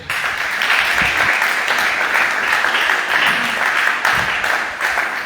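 A church congregation applauding in praise, dense sustained clapping from many hands filling a large room, loud and continuous throughout with no pause.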